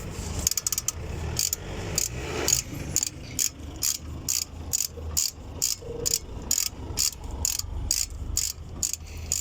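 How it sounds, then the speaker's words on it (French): A 14 mm wrench ratchets a bolt tight on a car brake job, a steady run of crisp, evenly spaced clicks close up. "on reprend la petite clé de 14 et on serre"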